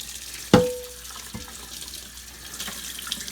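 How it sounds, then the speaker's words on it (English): Tap water runs steadily while a cast iron pan is rinsed under it, with a sharp metallic clank as the pan knocks against the sink, then a softer knock and continuous splashing. "Let's rinse it one more time."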